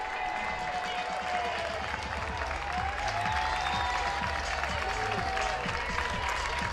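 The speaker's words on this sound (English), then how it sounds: "that extra jeer from the Ohio State crowd as they rise to their feet" A home baseball crowd at an Ohio State game jeers and rises to its feet, producing a steady, dense roar of voices and clapping that holds level throughout.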